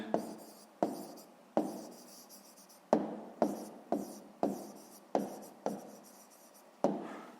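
A pen writes an answer to a sixth-grade math exercise on paper, about a dozen short scratchy strokes, each starting with a sharp tap and trailing off, close and quiet, with no voices.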